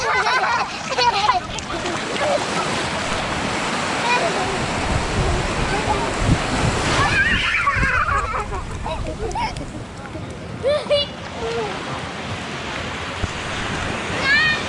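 Ocean waves wash onto a shore in a continuous loud rush of surf and spray, with people's voices calling out over the water now and then.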